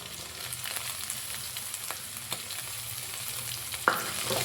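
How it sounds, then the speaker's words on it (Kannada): Chopped capsicum frying with onions in hot oil in a pan for eerulli manchurian, a steady close sizzle broken by a few faint stirring scrapes and one sharper clink near the end. "ಎಣ್ಣೆಯಲ್ಲಿ ಹಾಗೆ ಒಂದು ಸ್ವಲ್ಪ ಫ್ರೈ ಮಾಡಿಕೊಂಡ್ರೆ ಸರಿ ಹೋಗುತ್ತೆ"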